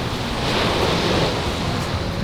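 Sea surf and wind at the coast in Ise, Japan, form a loud, continuous roar with wind buffeting the microphone and no voices.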